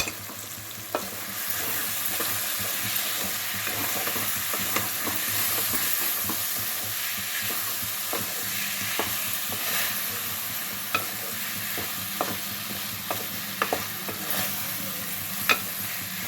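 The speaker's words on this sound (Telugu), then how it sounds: "నెక్స్ట్ మొత్తం కలుపుకోవాలి." Boiled potato pieces and green lentils being stirred through a spiced curry in a pan, steady scraping and clinking of the spoon over a soft continuous sizzle, with sharper taps every second or so and no talking.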